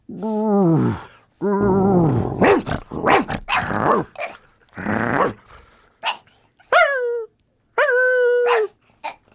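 A dog close by gives a string of loud barks, howling whines and yelps, some drawn-out and wavering, with short gaps between bursts.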